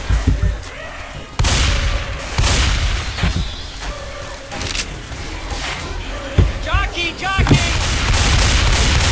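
Shotgun blasts in the zombie shooter Left 4 Dead, loud booming shots spread across the stretch amid dense game noise and chaotic action.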